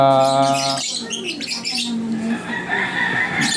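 Pet birds, apparently lovebirds kept for breeding, give a loud harmonic call at the start, then a steady stream of chirps and tweets from several birds close by, with faint wing flutters and no talk.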